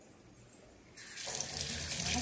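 Water runs steadily from a kitchen tap while hands are washed, first a softer trickle that swells into a loud, continuous splashing gush, with no talking.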